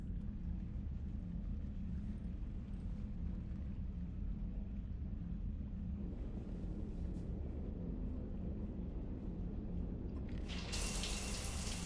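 Shower water runs steadily in a Mass Effect 3 scene, a constant hiss and rumble of spray that carries throughout, with a brighter splashing burst near the end.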